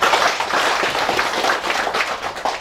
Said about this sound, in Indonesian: Tepuk tangan untuk para petani.